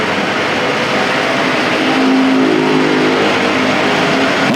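Factory stock race cars roar around the dirt oval at Perris Auto Speedway, a dense, continuous engine drone that swells slightly midway as cars pass close, with no talk.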